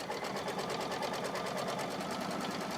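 An embroidery machine stitches an applique placement line for an in-the-hoop quilted placemat, giving off a steady, fast, even needle rattle at close range with no talking.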